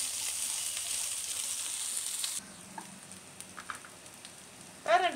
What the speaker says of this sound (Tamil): வெங்காயத்தை நல்லா வதக்கிக்கலாம்.